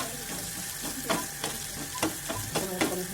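Onions sizzling and frying in a pan, a steady close crackle with periodic stirring scrapes and bursts of spatter.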